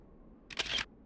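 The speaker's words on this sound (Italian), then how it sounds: "Usa la barra spaziatrice per scattare una foto." In the video game Myst, a single crisp camera shutter click-and-whir captures a photo, a short clear burst standing alone over a near-silent background.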